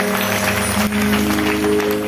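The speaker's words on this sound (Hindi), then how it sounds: "एक बार ताली बजा दो मैया के लिए" An audience claps steadily and densely at a Shrimad Bhagavat Katha religious gathering in Haridwar, the applause filling the whole moment over sustained musical tones.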